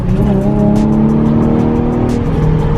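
Nissan 350Z tires squealing as the car slides on an icy road during a traction test, a loud sustained engine drone with tonal screech bands running through the whole stretch.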